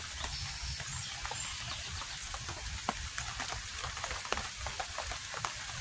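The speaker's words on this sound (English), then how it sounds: "I'm gonna sit here and chill in the rain for a little while" Steady rain patters at a campsite, a dense, even hiss of drops with scattered sharper taps on nearby surfaces, continuous and fairly close throughout.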